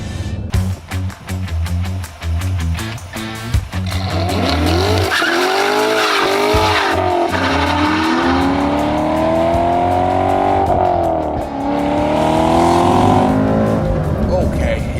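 A 2014 Corvette C7 with a manual V8 accelerating, its engine rising and falling through gears while the tires squeal loudly, heard up close and continuously, with talk in the background.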